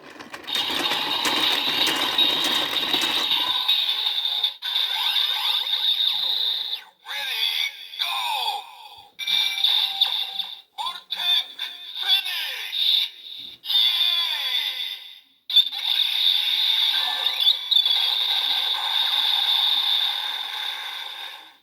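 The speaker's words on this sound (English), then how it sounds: "Now if you crank the crank again, you get the final attack sound, the Vortex Finish." A Kamen Rider Build DX Build Driver toy belt plays its Vortex Finish attack sound after its crank is turned: a loud electronic sequence of bright synthesized tones, bursts and stuttering effects, broken by short gaps, with a brief cranking rattle at the start.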